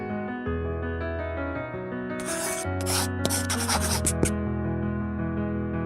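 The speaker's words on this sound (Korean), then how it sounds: "샌드페이퍼로 피접착면을 매끈하게 작업" Sandpaper is rubbed over a dried surface to smooth it before interior film is applied, giving several short scratchy strokes that rise over steady background music.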